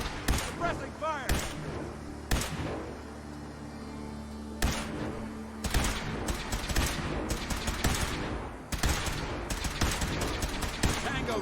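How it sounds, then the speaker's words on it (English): Sustained suppressing gunfire in a first-person shooter video game, dense bursts of automatic shots and thuds rolling continuously, loud and close, with a voice talking over the shooting. "Suppressing fire!"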